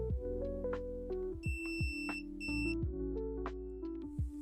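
Electronic alarm set off by tilting a tilt sensor: two bursts of high, steady beeping, the second shorter, sounding over a constant layer of low droning tones with no talk.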